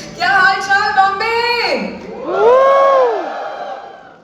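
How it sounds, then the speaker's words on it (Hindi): Crowd at a fan meet at the NCPA in Mumbai shouting and cheering, two long loud waves of massed yelling and whoops, close and sustained. "कम लोग चिल्लाए क्योंकि मैंने मुंबई नहीं कहा"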